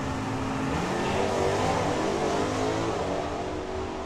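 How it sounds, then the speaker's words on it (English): A loud, steady engine roar from a drag racing car launching at a vintage drag racing event, droning continuously at close range with a rough, throaty rumble. "The car just jumped upwards as opposed to go forwards."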